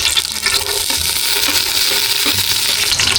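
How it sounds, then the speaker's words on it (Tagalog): Garlic hits hot cooking oil in a pan and sizzles loudly, a continuous crackling hiss with bursts of spatter and an occasional stir, up close and with no talk. "Igisa na po natin itong bawang."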